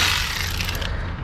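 A ratchet wrench clicks briskly while backing out 12 mm bolts from the A/C compressor on a 2004 Honda Accord 2.4, a short burst of close metallic ratcheting.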